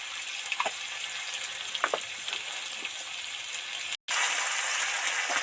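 Potatoes and tomatoes sizzle and crackle steadily in a hot pan, with a few soft scraping stirs and a brief cut in the sound near the end.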